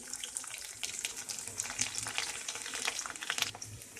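Mustard seeds and garlic sizzle in hot oil for a Kerala-style lemon pickle, a steady crackling hiss with scattered sharp pops, close and moderately loud, with no talk.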